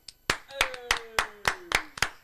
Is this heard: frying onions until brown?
no